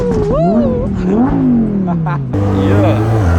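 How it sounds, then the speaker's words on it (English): A loud Lamborghini engine revs hard, its pitch climbing and falling in repeated surges, then settling into a deep steady idle. "Should we get some revs in, boys?"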